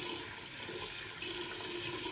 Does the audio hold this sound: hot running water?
yes